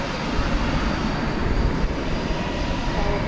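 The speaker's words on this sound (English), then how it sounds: "the almost new 757 is now on the move over to 18 left for takeoff" Boeing 757 jet taxiing toward runway 18 Left for takeoff at Dallas/Fort Worth International Airport, a loud, steady broadband engine roar heard continuously from nearby without speech.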